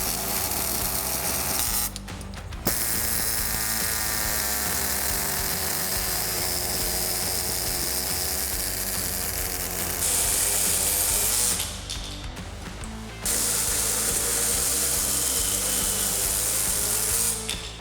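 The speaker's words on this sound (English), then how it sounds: "Now we're going to go ahead and cut these brackets off." A power tool cuts off the heat exchanger brackets on a Ford Bronco, a loud, steady whine running almost continuously, with short pauses and restarts, close by and alone.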